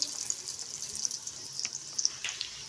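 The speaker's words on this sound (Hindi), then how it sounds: "अब हम इसमें डाल के फ्राई कर लेते हैं।" Potato cheese balls coated in breadcrumbs sizzle steadily in hot oil, a soft continuous hiss with faint crackles and a few brief pops, quiet and close, with no talking.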